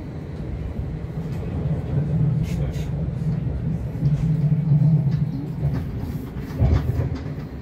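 A narrow-gauge train running by a lakeside station in rainy mountain weather, with a steady rolling rumble and rattling clatter throughout, close and continuous under a voice speaking.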